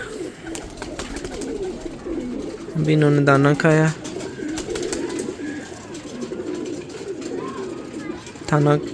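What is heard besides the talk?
pigeons cooing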